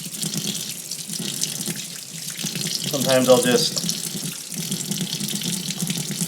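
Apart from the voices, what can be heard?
tap water running while rinsing a fountain pen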